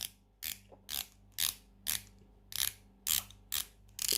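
A matte ceramic 120-click bezel on a bronze Spinnaker Tesei dive watch is turned in a run of about eight crisp ratcheting clicks. The clicks come at an even pace, each a short burst, close and clear against near silence.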